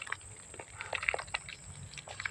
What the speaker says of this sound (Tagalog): Ito, kumakain sila.